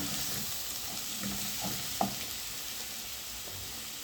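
Minced meat and grated carrots fry in a pan with a steady, hissing sizzle at moderate loudness, with a few faint stirring clinks and one brief knock partway through.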